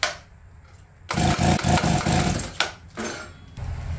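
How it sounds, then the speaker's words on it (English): An APC mini chopper's small engine being cranked with its ignition switch unplugged, a loud rapid chugging burst that stops, then briefer attempts with short rattly bursts, close to the microphone and with no talking. "I wonder if this starts without the ignition switch plugged in at all."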